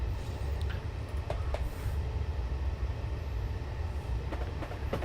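A train rumbles through a tunnel on the London to Brighton line in the game Train Simulator 2013, with a loud continuous low roar, a steady wash of noise and a few faint metallic clicks.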